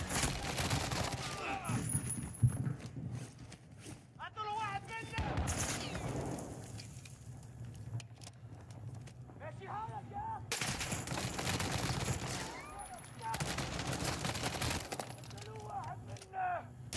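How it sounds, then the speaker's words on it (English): Shotgun and other gunfire in a Call of Duty multiplayer match, sharp blasts scattered through dense game action with music and voices underneath. "You're gonna shoot a shotgun from way back there?"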